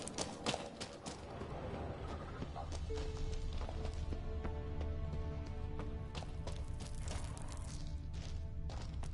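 Horse hooves clip-clop steadily in The Witcher 3, joined by a whinny, over continuous game music and ambience, moderately loud throughout.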